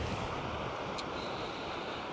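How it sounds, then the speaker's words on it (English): Ocean surf washes onto a beach on the south coast of New South Wales, Australia, at sunset. It is a steady, soft hiss of breaking waves with light wind noise across the microphone. "there was a wave just breaking there"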